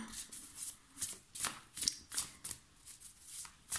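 Tarot cards being shuffled by hand, a quick series of soft riffling flutters in an even rhythm, close and quiet, with no talk over them.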